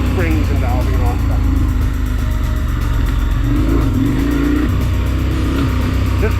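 A KTM 1090 S adventure motorcycle rides off-road in off-road mode, its engine droning loudly and steadily with shifting revs under wind rush while someone talks over it.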